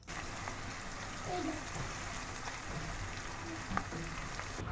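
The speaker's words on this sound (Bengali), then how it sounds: "এখন আদা রসুন পেঁয়াজটাকে কিছুক্ষণ ভেজে নিয়ে" Onion with ginger-garlic paste frying in a pan for spiced chicken gizzard and liver, a soft, rain-like crackle of oil that runs evenly throughout at moderate distance, with a small clink near the end.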